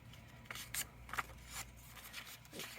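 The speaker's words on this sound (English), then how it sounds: "let's cut this piece off here." Scissors cut through paper for a journal craft, making several quiet, close, crisp snips and rustles spaced irregularly over faint background noise.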